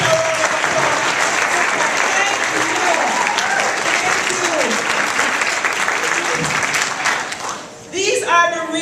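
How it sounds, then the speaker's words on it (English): Audience at a university presentation at Clayton State University breaks into a sustained round of applause, dense and loud for about eight seconds before fading, with a brief voice and scattered claps at the end. "Could you give these people a round of applause?"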